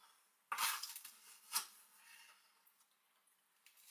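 A metal tablespoon scooping into a bowl while making breakfast, two sharp clinks about a second apart followed by faint scraping, close and quiet.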